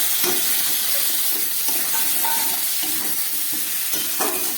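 Ground spices, including roasted coriander powder with a splash of spice water, fry in a pan for a Bengali fish curry, giving a steady close sizzle with stirring scrapes throughout.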